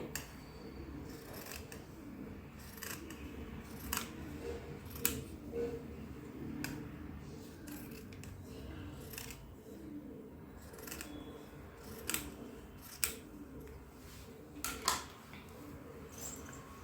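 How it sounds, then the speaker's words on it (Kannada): Scissors snipping blouse-piece fabric to make small roses for a garland, a series of quiet, crisp cuts at an uneven pace, close up against a faint background. "ನಾನಿಲ್ಲಿ ಕಟ್ ಮಾಡ್ತಾ ಇದ್ದೀನಿ"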